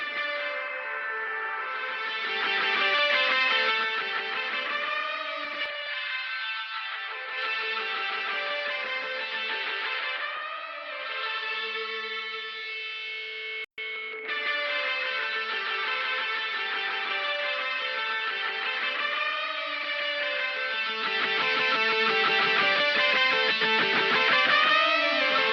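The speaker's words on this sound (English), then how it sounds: "You can get a really nice spring reverb sound there that's a little bit different to your typical reverb" Guitar solo played through a lofi delay effect with spring reverb blended fully in, sustained sustained melodic notes trailing into echoing repeats and a springy wash, steady and fairly quiet, with a brief click midway and no talking.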